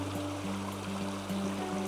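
Creek water flows steadily beside a gold-prospecting sluice, a constant close rushing and gurgling with a low hum underneath.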